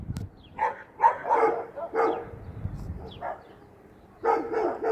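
A dog barks in a series of sharp, loud bursts close by during a tense encounter, with short pauses between barks and a brief whimper mixed in.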